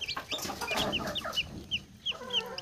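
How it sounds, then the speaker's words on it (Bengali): A desi hen clucks softly near her newly hatched chicks while the tiny chicks cheep in quick, high repeated peeps, close by and fairly clear over faint background noise. "ছোট্ট ছোট্ট কত বাচ্চা দিয়েছে আমার মুরগিটা।"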